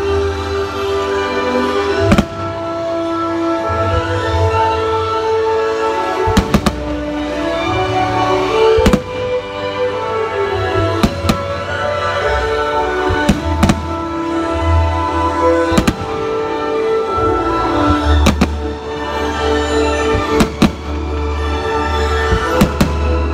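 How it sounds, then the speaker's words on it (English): Repeated fireworks explosions at a summer night show finale, sharp booming bursts going off at irregular intervals over a continuous rumbling, crackling background. "I'll still get some fireworks in."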